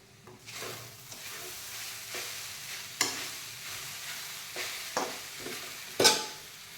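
Peanut powder is stirred into sabudana khichdi in a pan, a soft continuous sizzle broken by several sharp scrapes and clinks of the spoon against the pan.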